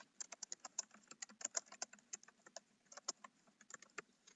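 Fingers type on a computer keyboard, a quick, close, irregular run of crisp key clicks with brief pauses, clear against a quiet room.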